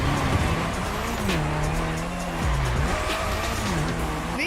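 A Lancer Evo 6 in The Crew Motorfest drifts on a track, its engine droning loudly as the tires squeal in long wavering screeches that rise and fall continuously.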